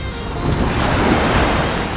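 Stormy sea surf pounding a beach at night, a loud, continuous roar of breaking waves mixed with wind rush, close and steady with no voices.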